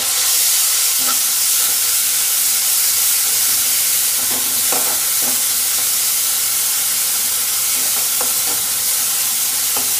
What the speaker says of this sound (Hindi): तो मसाले को हम थोड़ी देर तक भूनेंगे।